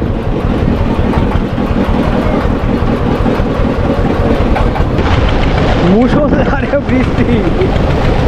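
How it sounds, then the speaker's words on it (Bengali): Heavy monsoon downpour drums onto a river boat in the Sundarbans, a loud steady roar of rain over the boat's engine hum, with brief voices near the end. "মুষলধারে বৃষ্টি হচ্ছে"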